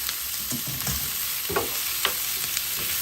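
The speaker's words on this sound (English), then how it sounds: "So the onions is very sauteed." Onions and gizzard sauté in a pan for peppered and suya gizzard, giving a steady close sizzle broken by a few soft scraping stirs, with no talking.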